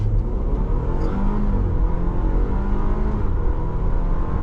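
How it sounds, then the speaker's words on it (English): A 2023 Audi Q5 Sportback pulls from a brake hold to full throttle, its engine a loud, continuous rumbling drone heard from inside the cabin. "I'm just gonna go from brake to full throttle without boosting at all"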